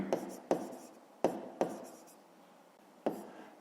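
Pen strokes on paper as math work is written out, a handful of sharp scratchy taps and short scribbles spaced irregularly, close and fairly quiet.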